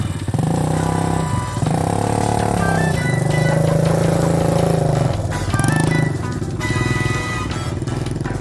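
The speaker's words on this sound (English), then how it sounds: "Give it some gas while you're doing." Vehicle stuck in Saudi Arabian sand dunes, its engine loud and close, revving repeatedly with rising and falling pitch over a rough, rattling drone, sustained throughout.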